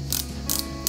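Screws being tightened on a Lancia 037 scale model car kit, producing three short bursts of ratcheting, clicking mechanism noise, close and fairly quiet, with a low steady hum underneath.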